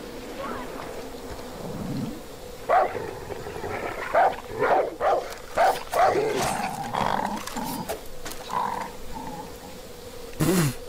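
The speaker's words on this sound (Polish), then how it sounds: "Ja nie wiem, tego psa trzeba się pozbyć jakoś." A dog barks in the video game Far Cry 5, a run of sharp, fairly loud barks in close succession over a steady background hum, with a last bark at the very end.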